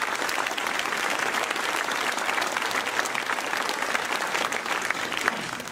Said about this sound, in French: on peut tous les applaudir.